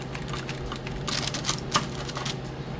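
Paring knife slicing through meatballs, a quick run of close, crisp tapping cuts against a board, a few in succession with no talking.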